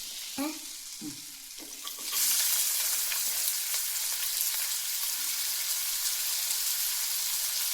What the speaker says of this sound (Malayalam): ബട്ടർ ഉരുകി വന്നിട്ടുണ്ട് അതിലേക്ക് നമുക്ക് സവാള ആഡ് ചെയ്യണം